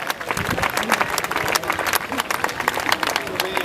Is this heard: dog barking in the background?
no